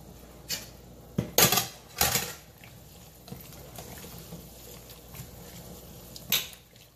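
Kabocha squash pieces dropped into a large pot of Asian vegetable soup, a few sharp clattering knocks and splashes against the pot, close, separated by quieter handling noise.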